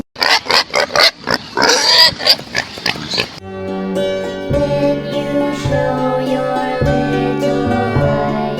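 A pig oinks and grunts in a rapid run of short, loud snorts close up, then gives way to a steady passage of music.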